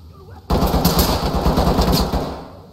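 Sustained automatic gunfire from the tactical shooter game Ready or Not breaks out suddenly and rattles loudly and continuously for about two seconds, then eases off.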